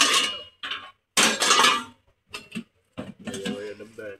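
Metal kadhai woks and pots clatter and clank as they are handled in a budget 99-rupee housewares store in Borivali East, in short bursts with brief gaps between them and close by.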